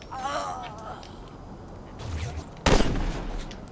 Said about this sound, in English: Well, that shotgun's pretty dangerous.